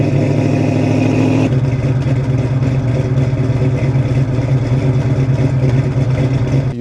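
A 1971 Dodge Challenger's 383 V8 with a Performer intake manifold and headers revs loudly and close up, a steady, heavy engine roar that deepens slightly after the first moments and holds throughout.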